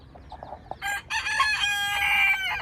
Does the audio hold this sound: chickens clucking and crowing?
yes